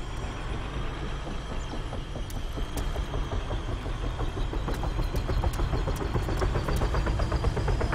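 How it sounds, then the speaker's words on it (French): Helicopter engine in the video game Arma 3, a steady loud mechanical drone with rapid rotor pulsing that builds slightly over several seconds, with no talk over it. "Il y a quelqu'un qui prend un hélicoptère."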